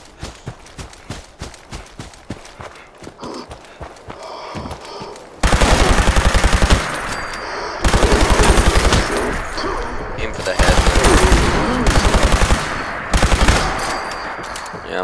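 An automatic laser rifle with quadruple fire rate shoots in Fallout 76, loud rapid bursts of rhythmic shots separated by short pauses and lighter scattered firing at the start.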